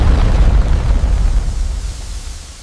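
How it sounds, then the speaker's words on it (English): A massive boiler explosion rendered as a deep, loud rumbling boom that starts at full force and slowly decays over a few seconds, heavy low-end roar with no voices. "She turned herself into a human boiler explosion."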